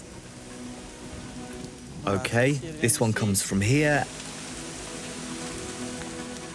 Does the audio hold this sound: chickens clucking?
no